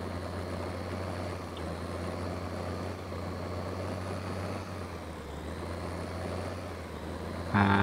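A tractor engine idles in Farming Simulator 15, a steady low hum that stays even throughout, with a brief louder clunk right at the end.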